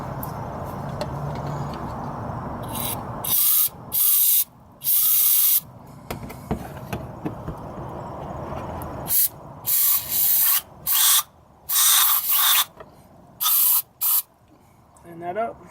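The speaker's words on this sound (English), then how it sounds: "Also got some brake cleaner that I'm going to spray in there." Brake cleaner sprays in repeated loud hissing bursts into the holes of a brake caliper during a brake pad wear repair, each blast lasting about a second with short pauses, after a stretch of quieter handling noise.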